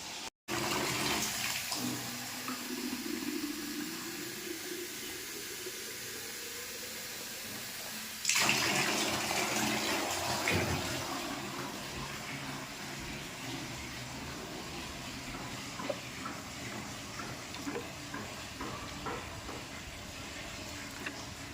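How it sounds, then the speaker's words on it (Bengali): Water pours steadily onto garden plants and into a dried-out pond, a continuous rushing splash that grows louder and fuller partway through, then settles into a steady flow. "এগুলোকে একটু জল দিয়ে দিতে হবে"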